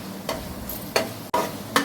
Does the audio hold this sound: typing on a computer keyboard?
no